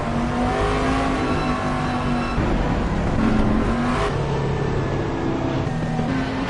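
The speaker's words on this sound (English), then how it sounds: "See him warming up his tyres." GT3 race car in a sim racing esports round at the Barcelona Grand Prix circuit, its engine droning and revving steadily while warming its tyres, a continuous loud motor tone with shifting pitch throughout.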